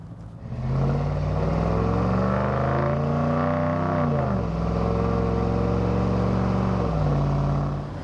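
A pickup truck on air springs inflated to 40 PSI carries a 1,000-pound load in the bed, its engine droning steadily with a smooth rise in pitch and a dip as it shifts, then settling back to a level cruise.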